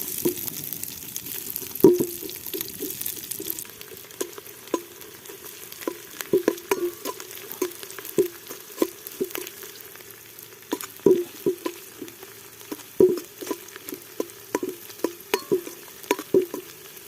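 Chopped onions fry in hot oil in a village-style kitchen, a steady sizzle broken by frequent sharp stirring clicks and scrapes in an irregular rhythm, close by with no talking.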